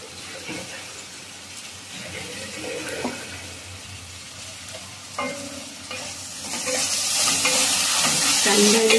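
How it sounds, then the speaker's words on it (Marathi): Chopped onion and tomato fry in a pan for a gavar dhokli dish, giving a steady close sizzle with occasional stirring scrapes that grows louder toward the end. "कांदा आणि टमाटर शिजून घेऊया."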